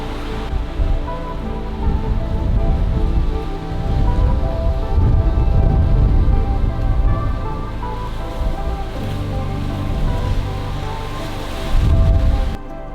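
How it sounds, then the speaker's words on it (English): Torrential rain drums steadily on a VW camper van awning, a dense, continuous hiss and patter that swells and eases in places, heard alone without talk. "it has been torrential rain, so. But you can see, chucking it down."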